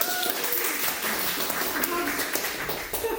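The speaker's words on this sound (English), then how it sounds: "Applause to her again." Steady crowd applause fills the whole stretch, a dense wash of many hands clapping at an even level.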